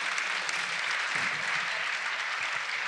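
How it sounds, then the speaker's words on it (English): An audience at a New York Film Festival panel on The Power of the Dog breaks into steady, moderately loud applause, many hands clapping evenly in a large room. "Note the applause, Variety."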